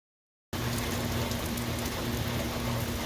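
Steady rain pours down at a marine railway, a dense continuous hiss after a brief silent start, with a low hum running underneath.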